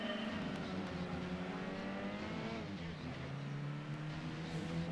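Honda Accord race car engine from Gran Turismo 2 drones steadily with a buzzy, sustained tone and rising harmonics, loud and continuous throughout with no talking.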